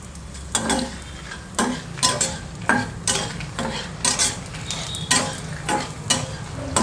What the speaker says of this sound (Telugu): ధనియాలు వేగి వెల్లుల్లి కూడా 5-6 రెబ్బలు వేయాలి.